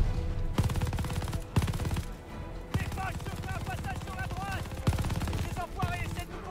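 Rapid bursts of machine gun fire from an MG in the Call of Duty Vanguard video game, sharp repeated shots close and loud, set among busy battle sounds with other gunfire.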